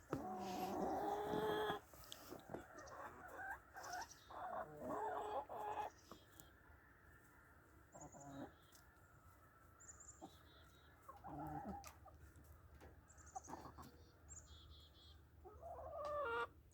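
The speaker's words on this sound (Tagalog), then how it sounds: "Yung aming mga manok, ayaw nila lumabas." Hens clucking in a snowy coop in upstate New York, a few scattered clucks and murmurs at moderate distance over a low, quiet background.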